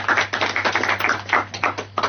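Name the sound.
audience applause for a quiz contestant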